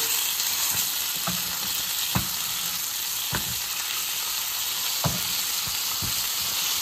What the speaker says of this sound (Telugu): ఇది ఒక పక్క ఫ్రై అయిందండి. ఇప్పుడు తిప్పుతున్నాను.